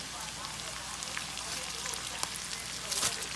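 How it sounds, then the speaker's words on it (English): Handfuls of cabbage hit a hot frying pan, giving a steady faint hiss and crackle of sizzling throughout with a slight swell near the end. "So now I'm just going to start adding handfuls of cabbage"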